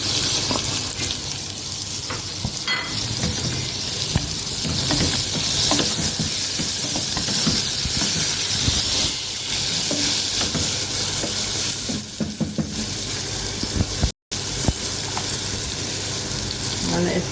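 Tomatoes hitting a hot pan of liver, onions and peppers, sizzling and frying loudly with stirring scrapes and crackles throughout, a brief dropout near the end, and faint voice in the background.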